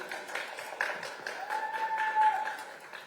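Audience applause breaks out at a press conference for a JTBC drama premiere as the director is welcomed, a steady wash of clapping that holds for about three seconds with no talk over it.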